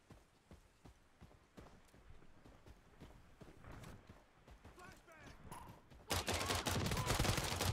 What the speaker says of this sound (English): They're getting sniped at.